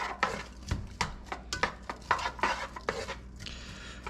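Onions go into a pot for creamy tomato soup: a few close clatters and scrapes of a spoon against the pot, soft stirring, and a faint sizzle between the knocks.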